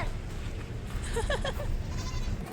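A goat bleats a few short, wavering calls in the middle, mid-distance over a constant outdoor rumble, with no talking.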